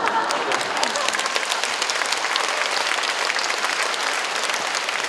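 A lecture hall audience breaks into sustained applause, dense and even clapping that holds steady for the whole stretch without letting up.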